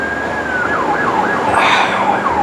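A loud ambulance siren wails up and down in repeated sweeps, close by, over steady road noise.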